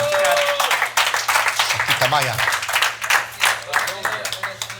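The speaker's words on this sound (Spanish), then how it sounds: "Denle otro fuerte aplauso a Dios." A church congregation claps strongly in praise to God, a rhythmic rapid clapping heard together with voices and a low steady hum, loud and close throughout.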